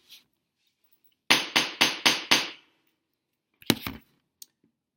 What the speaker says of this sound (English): Here's hammering on the floor.